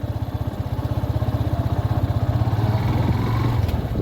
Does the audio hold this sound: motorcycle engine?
yes